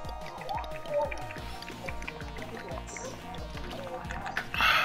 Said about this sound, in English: I was drinking water